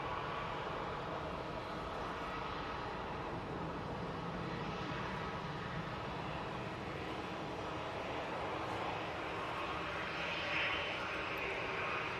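A large airliner floats low over a runway on landing approach, its engines a steady, broad roar that stays even and continuous throughout, with a slight swell near the end.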